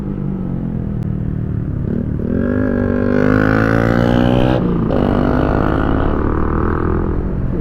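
A Honda Winner X motorcycle passing on a city street in Tacloban, its engine note rising as it approaches, loud and close, then fading with a brief revving surge.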